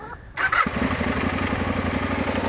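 A motorcycle engine starts up with a short burst and settles into a steady, loud, throbbing idle close by before a ride.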